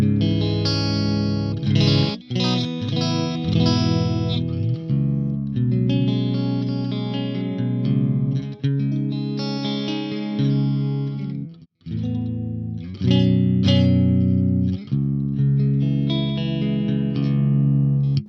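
Clean electric guitar chords and notes ring out through the Audio Assault The Crown amp plugin, bright and sustained, with a brief pause midway and no talking.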